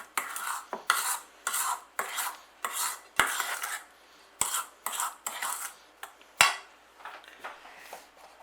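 A utensil scraping down a bowl of beaten sugar and egg, a series of close, distinct scraping strokes with short clinks against the bowl, about a dozen in rhythmic bursts with brief pauses between.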